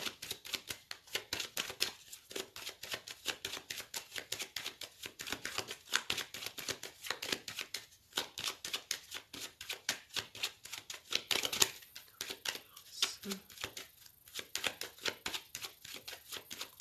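A tarot deck is shuffled by hand, with dense, rapid card riffles and soft slaps that repeat in quick, uneven bursts. The sound is close and fairly quiet, with no talking.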